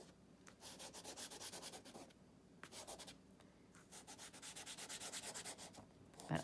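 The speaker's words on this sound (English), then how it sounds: "And then I can start filling in with the side of my crayon." A crayon colors on paper with its side in quick, rhythmic back-and-forth rubbing strokes, close and soft, with short pauses between bursts.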